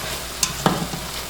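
A spoon stirs lasagna beef meat sauce with black pepper in a hot pan, with a couple of brief scraping clacks over a soft, steady sizzle, close up.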